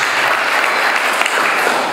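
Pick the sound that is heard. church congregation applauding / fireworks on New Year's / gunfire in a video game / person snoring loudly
church congregation applauding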